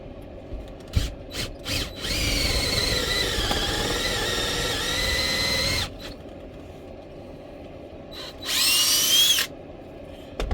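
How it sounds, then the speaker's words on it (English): A power drill bores holes in a homemade tool: short bursts of whirring, then a long steady drilling run of several seconds, and a final high squealing burst, all loud and close. "Forgot about these holes that need to be drilled."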